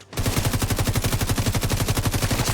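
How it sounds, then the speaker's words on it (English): Sustained automatic gunfire in the shooter game Tom Clancy's The Division 2, a rapid, evenly spaced burst of loud shots continuing without pause, with no talking. "Oh yes, more gunfire."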